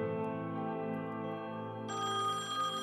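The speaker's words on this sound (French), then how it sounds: "le téléphone retentit au domicile des parents d'Élodie Kulik." A telephone rings at a family home, a steady electronic ringtone with sustained tones that shift to a brighter, higher pattern partway through, clear and alone with no voices.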